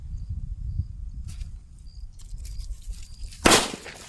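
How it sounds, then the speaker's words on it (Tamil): A single loud crack from a Kannan firecracker out of Sivakasi, bursting like a chili cracker, sounds close by after a stretch of quiet outdoor hum with a faint chirping insect. "நல்லா இது மிளகா பட்டாசு மாதிரி வெடிக்குது"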